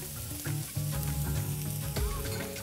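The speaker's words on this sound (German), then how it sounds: "Jetzt werden wir das Gemüse anschwitzen, bis es ganz leicht Farbe genommen hat." Diced onion, garlic and celery sweat gently in a pan, giving a soft, steady sizzle broken by occasional clatters of stirring.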